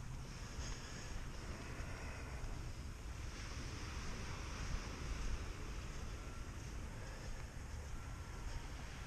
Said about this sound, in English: Waves. Maybe a big ship went by.